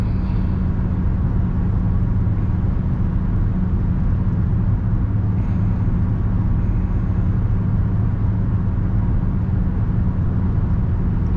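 Steady interior rumble of a car driving during a beginner driving lesson, a moderately raised car, with constant low road and engine noise throughout and no talking.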